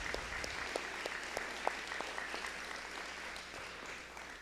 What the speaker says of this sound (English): One more round of applause for our retiree from district office.